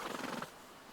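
A stable horse neighing sound effect: a brief quivering whinny in the first half second, then fading to quiet, heard faintly and alone.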